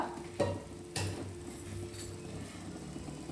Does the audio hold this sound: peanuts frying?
yes